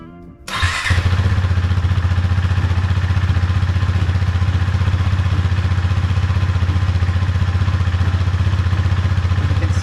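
A Husqvarna Svartpilen motorcycle engine fires up after a brief crank, then settles into a loud, steady, close idle with a deep throbbing drone and light mechanical clatter throughout.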